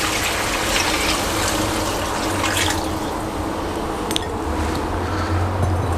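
About 1.5 litres of water poured into browned chicken and separated oil for chicken pulao makes a loud, continuous gushing pour that wavers slightly in strength throughout.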